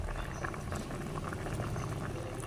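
Leftover fried chicken paksiw simmering in a pot, a steady soft bubbling boil that stays close and quiet without a break.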